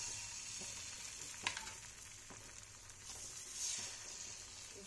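Beaten egg batter for a Bengali omelette curry sizzles continuously in hot oil in a pan, a steady close frying hiss with a few soft stirring clicks and no talking.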